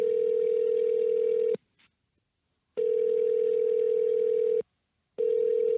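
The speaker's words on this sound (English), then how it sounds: "All right, dial up their number. Let's call them up." A telephone dial tone plays steadily, cuts out briefly for a short gap, then resumes, drops again and returns, heard clean and moderately loud with no voices over it.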